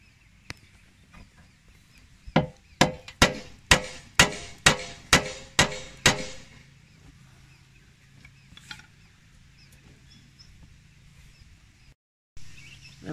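Sharp metallic taps of a hammer on a pin punch against a classic Valiant car's radiator mounting point, about nine in a steady rhythm, close by, followed by quiet room noise and a few faint scattered clicks.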